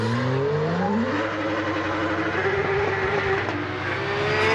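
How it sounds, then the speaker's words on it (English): A Porsche drift car's engine revs hard at a drift competition on the Tor Poznań circuit, rising and falling pitch sweeps through gear changes, loud and continuous with tire noise, ending in a sharp bang. "This car has one of the best sounding engines I've ever heard."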